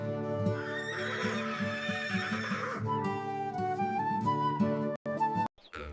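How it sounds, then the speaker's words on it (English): A horse in a stable neighs with a loud, drawn-out whinny, with music playing throughout and a few short breaks near the end. "The horse lives in a stable."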